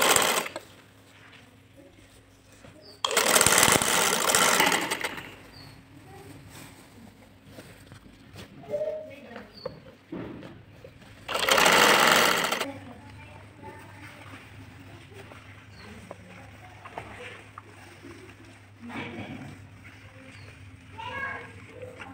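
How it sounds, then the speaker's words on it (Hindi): Sewing machine stitching a yoke and panels of a fairy-style frock or maxi dress, running in two loud bursts of about two seconds each, with quieter handling and occasional talk between the runs. "बॉल को अटैच करेंगे और सिलाई लगा देंगे।"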